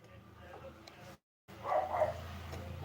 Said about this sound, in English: Don't mind the dog barking.